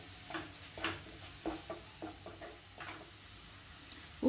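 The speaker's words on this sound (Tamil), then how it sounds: "நல்லா எண்ணெயில் நல்லா வதக்கி விடுங்க." Chilli, garam masala, coriander and turmeric powders sautéing in hot oil, a quiet sizzle broken by a series of irregular stirring scrapes and taps against the pan.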